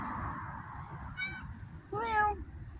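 A white cat gives two short meows close by, the second louder and longer, over faint background noise.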